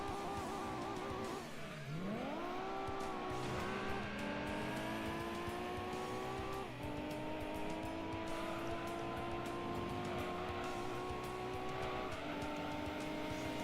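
A race car in Gran Turismo 2 drones under steady throttle, its engine pitch climbing and then dropping sharply at each gear change, with a brief tire squeal early on. No one speaks.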